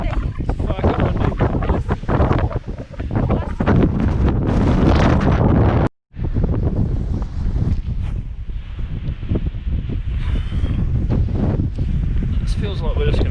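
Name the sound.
strong wind on mountain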